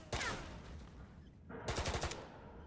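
Rapid gunfire in a video game: a burst of loud close shots, a pause, then another quick staccato volley of about half a dozen shots.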